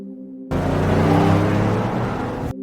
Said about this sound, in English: he started the engine and sped away at full throttle